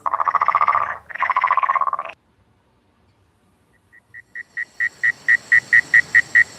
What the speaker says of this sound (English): Yeah, tree frogs.